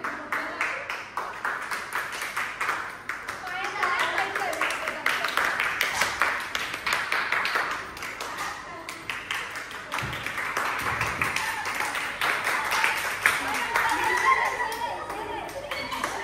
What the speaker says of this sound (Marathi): टाळ्या वाजवा सगळे बी.